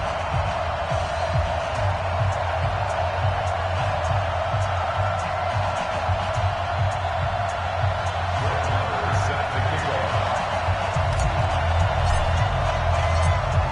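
Constant stadium crowd roar from an EA Sports football video game before a New York Jets versus Atlanta Falcons kickoff, a dense steady murmur with brief scattered cheers rising near the end, and commentary-like speech running underneath.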